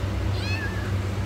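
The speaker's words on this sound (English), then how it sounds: "There's more cats here," A single cat meows once, drawn out and falling in pitch, at the Greenbelt Humane Society, a no-kill animal shelter, over a steady low hum of room noise.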